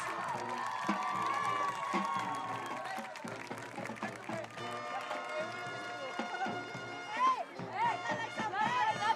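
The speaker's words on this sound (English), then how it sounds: "One more time, please give another round of applause for the entire 2025 football homecoming Royal Bulldog Heart." Crowd applause and cheering in the stands at a high school football homecoming game between Holtville and Calexico, moderately distant and mixed with a band playing and scattered shouts throughout.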